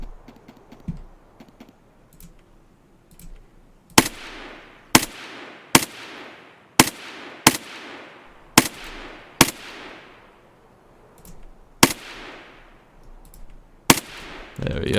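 Sniper rifle fire in the Escape from Tarkov video game: about nine sharp, loud shots spaced irregularly roughly a second apart, each with a ringing echo tail fading into a quiet background.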